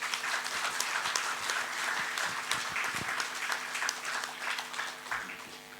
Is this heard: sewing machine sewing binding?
no